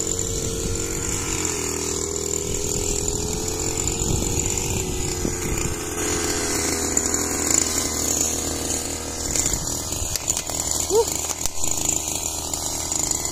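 A grass cutter engine runs in a farm field with a continuous, buzzing, high-pitched drone that stays steady and close throughout. Faint talk sits underneath.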